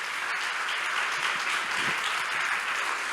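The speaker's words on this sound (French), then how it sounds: "Vous pouvez les applaudir, mesdames et messieurs," An audience in a hall applauds the jury members at a university thesis-presentation final, a dense, uniform wash of clapping held at a steady moderate level throughout.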